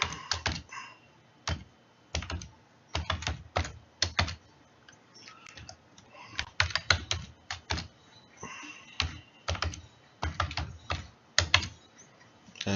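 Someone types a password on a computer keyboard in quick bursts of close, crisp keystrokes separated by short pauses.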